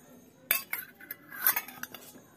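Brass household utensils clinking and clattering while being scrubbed, with several sharp metallic knocks and scrapes close by in an otherwise quiet room.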